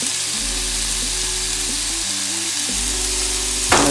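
Food sizzles steadily in a pan with oil, salt and soy sauce while being stirred, a close, even frying hiss with a sharp scrape near the end, with no voices.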